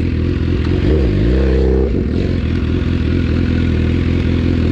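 A BMW S1000R motorcycle engine idles loud and steady with launch control being activated, one brief rising-and-falling rev swell near the start, then constant heavy engine drone.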